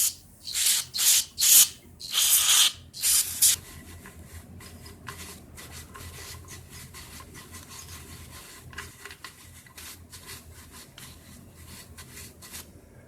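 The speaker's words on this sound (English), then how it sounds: "I'm going to spray a little NAPA parts cleaner here." Aerosol NAPA parts cleaner sprayed onto a Stihl FS 56RC trimmer carburetor, heard as several loud, close hissing bursts in the first few seconds, followed by quieter scrubbing and rubbing sounds.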